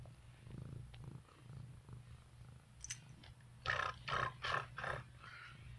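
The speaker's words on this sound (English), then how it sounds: "That little purr motor's going in there" A domestic cat's low, steady purr runs through the background while a few sharper bursts and rustles sound up close, with no talk over it.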